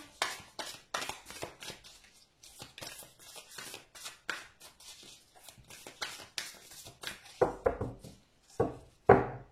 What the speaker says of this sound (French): je vais déjà mélanger les cartes